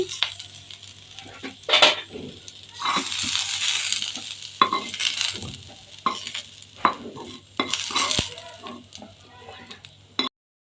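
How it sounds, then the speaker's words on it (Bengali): Green peas fry in oil in a pan, a soft sizzle beneath frequent stirring scrapes and utensil clinks against the pan, close by and uneven in loudness. "মটরশুঁটি ভেজে নিব"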